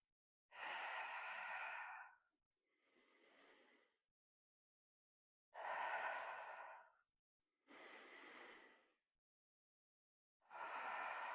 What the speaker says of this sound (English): Breathing out as you slide the legs in.